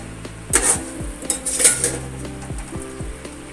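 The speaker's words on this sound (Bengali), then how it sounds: "এবার আমি ঢাকাটা খুলে নেব" Metal lid lifted off a pot of doi potol that has simmered covered for five minutes: a couple of sharp clanks and scrapes of metal on metal, with a soft bubbling sizzle underneath.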